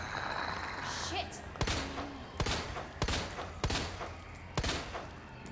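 9mm handgun shots in the Resident Evil 2 remake, a series of about five sharp cracks spaced roughly a second apart over game ambience, with a voice talking in between.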